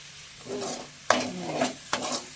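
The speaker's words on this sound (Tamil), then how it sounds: "இப்போ தக்காளி போட்டுக்குவோம்" Tomatoes going into a hot pan and being sautéed for a potato gravy, with a soft sizzle and a few sharp scraping stirs of a spoon against the pan, close by and with no talking.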